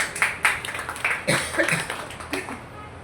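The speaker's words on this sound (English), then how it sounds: "Let's give a big round of applause for them." Scattered applause from a small meeting audience, a few hands clapping in uneven bursts for about three seconds, with faint voices in the background.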